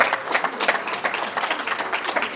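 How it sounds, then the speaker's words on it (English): A crowd applauds university presidents standing up at an HBCU event, with steady, fairly dense clapping from a nearby audience that continues without a break. "Give a round of applause to them"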